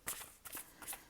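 A deck of oracle cards is shuffled close by in three quick riffling bursts, soft and crisp, each a brief flutter of sliding cards, with nothing else heard.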